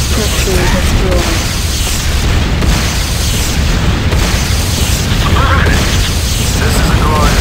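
A building blows up in the Command & Conquer: Renegade shooter, a continuous rumbling wash of booms and blasts with mechanical clatter held loud over the whole stretch, with game voice audible in the mix.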